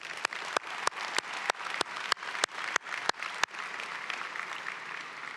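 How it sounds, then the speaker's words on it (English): Graduation commencement audience applauds in a spring ceremony crowd, a steady wash of many hands clapping with sharp accented claps at the start, continuing evenly and moderately loud with no talk. "Let's give Harry another round of applause."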